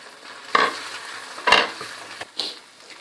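Rice being stirred in a hot pan over a gentle sizzle, with three distinct scraping strokes spaced about a second apart.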